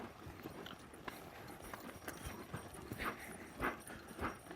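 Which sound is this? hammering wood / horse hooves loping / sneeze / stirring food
horse hooves loping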